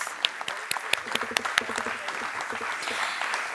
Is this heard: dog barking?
no